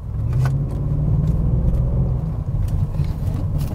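A BMW X5 4.8is with a 4.8-liter V8 rumbles steadily from inside while driving, a deep, continuous low engine drone with slight rises, no talk over it.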